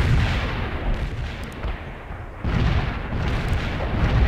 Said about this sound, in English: The light artillery hit some enemies.